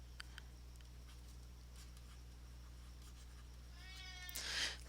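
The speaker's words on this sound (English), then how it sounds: "Sorry if you hear my cat." A pet cat gives a single faint meow near the end, heard indoors over a steady low hum and quiet room noise.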